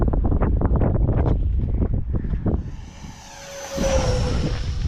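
An FMS F-15 Eagle RC jet sweeps close past, its high ducted-fan whine swelling and then dropping in pitch as it goes by, after a few seconds of gusty wind buffeting.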